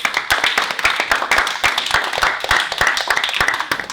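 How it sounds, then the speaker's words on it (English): A round of applause breaks out in a middle school model UN working group after a resolution passes, many hands clapping in a dense, steady patter close by, with no voices over it. "Deserves a round of applause."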